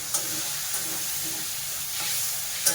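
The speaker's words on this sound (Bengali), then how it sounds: "আমার চিংড়ি মাছ ভাজা কমপ্লিট" Shrimp fry in a pan of hot oil, giving a steady close sizzle with occasional sharper crackles and spatters.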